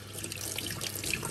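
Water is poured out of a container into a sink indoors, a steady, close splashing rush with small drips scattered through it and no talking.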